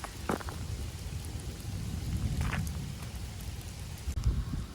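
Rain falls steadily on a roadside at night, a soft continuous patter with faint low rumbling and a few brief knocks and rustles, quiet and without voices.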